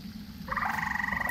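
A toad from the Alex's Mobs mod in modded Minecraft gives a single close, clear croak that starts as a soft low rumble and becomes a buzzy, sustained trill, heard alone.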